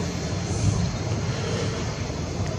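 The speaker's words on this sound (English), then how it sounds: "So that jet is not on flight radar." A steady, broad roar of a jet aircraft passing overhead, constant and moderately loud throughout, with no voices.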